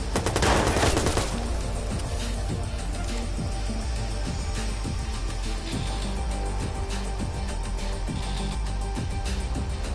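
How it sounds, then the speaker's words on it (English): Rapid, dense gunfire rattles on continuously in a Watch Dogs gameplay firefight, with a heavy opening burst followed by steady bursts of shots throughout. "Alright, who's shooting at me?"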